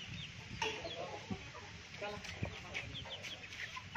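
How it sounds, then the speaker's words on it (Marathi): Hens in a terrace poultry coop, about six months old and now laying, cluck intermittently in short bursts over a busy background of farmyard noise, moderately close. "ह्या ज्या मोठ्याल्या कोंबड्या आहेत साधारणतः यांना आता 6 महिने पूर्ण होऊन गेलेत"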